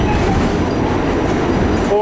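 An old R46 New York City subway train rumbles along in a loud, steady roar heard from on board, with a faint squeal near the end.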